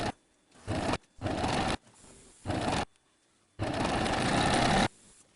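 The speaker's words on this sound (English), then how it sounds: "Fix the sides with a straight stitch 1 centimeter from the edge." A sewing machine runs a straight stitch along the fabric edges in four separate bursts, each a steady close whirring hum of about a second or more, with the final burst the longest and short quiet gaps between them.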